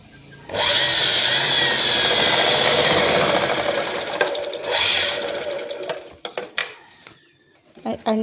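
A sewing machine stitching a strip onto the back panel of reused old cloth runs in one loud, steady whirring burst for about three seconds, then stops, followed by a few clicks and handling clatter.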